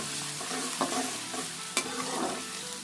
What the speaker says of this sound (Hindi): साथ ही इसमें डाल देंगे 1 खाने का चम्मच ये जीरा, और हल्का सा फ्राई करेंगे हम